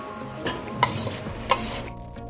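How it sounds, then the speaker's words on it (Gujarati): Mashed potatoes being stirred into a spiced masala with a spoon for Gujarati aloo ragda, with a soft sizzle under the scraping and two distinct metallic clinks of the spoon against the pan, close and brief. "હવે આપણે મસાલાની અંદર બરાબર બટાકાને મિક્સ કરી લઈશું"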